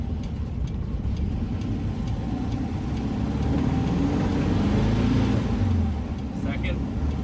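A 1966 VW Bus drives on a highway, its engine producing a steady, loud drone mixed with road and wind noise that rises slightly near the middle. Talk may be buried under the cabin noise.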